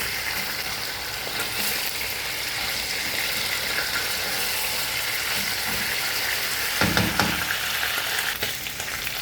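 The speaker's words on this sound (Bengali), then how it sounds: "চিকেনটা শুধু ফ্রাই করতেছি।" Chicken frying in hot oil in a pan, a steady loud sizzle and crackle running throughout, with a brief burst of stirring near the end and no talking.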